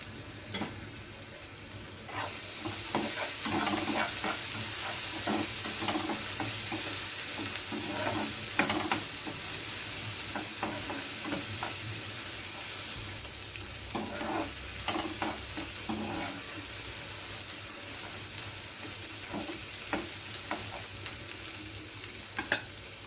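Spice masala with turmeric, coriander and red chilli powder sizzling and being stirred in oil for a hilsa curry, a continuous close frying hiss broken by repeated scraping spoon strokes.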